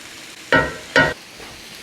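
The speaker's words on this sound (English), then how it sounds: "my goal here is to somewhat caramelize the corn and the pepper and the jalapeno" Corn, bell pepper and jalapeno cook in a hot pan, with two short, loud bursts of sizzling and stirring about half a second apart over a quiet background.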